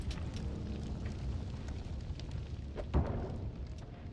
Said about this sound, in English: 3 bombs. That's right. 3 of them. All at once. Blow you up.